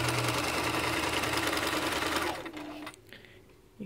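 A Bernina Bernette 740e sewing machine stitching cotton in a steady, fast mechanical whir, running close and continuous before slowing and stopping, followed by faint clicks.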